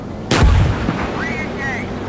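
A tank main gun fires once in the video game GHPC, a loud, close, deep blast that rumbles and fades, followed by faint voices.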